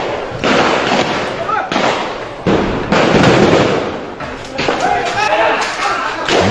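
Gunfire rings out during a night crackdown at Motijheel, rapid sharp bursts in clustered volleys with heavy thuds, loud and close, with voices behind.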